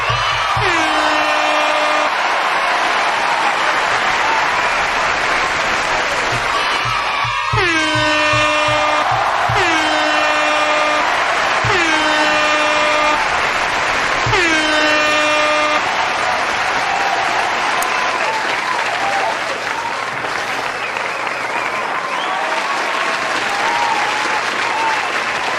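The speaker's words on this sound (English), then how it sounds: "This applause is for you." A loud applause sound effect played for a viewer: sustained crowd clapping and cheering throughout, broken by several short, horn-like blasts in the first half.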